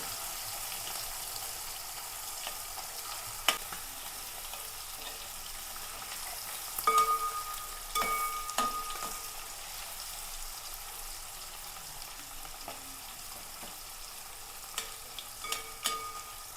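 Prawns shallow-frying in oil, a faint, continuous sizzle with scattered utensil clicks and scraping stirs.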